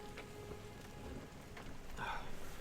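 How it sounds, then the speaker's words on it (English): Steady, dense rain from a hailstorm hissing in the background, a constant wash of drops with a faint sharper patter rising toward the end, no voices. "it's really fucking raining out."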